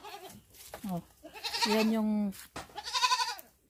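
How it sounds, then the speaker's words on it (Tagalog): Goats bleat in a backyard in Nepal, with several wavering, nasal calls rising close by as people talk and exclaim among them. "naglalaro kami dito ng mga kambing"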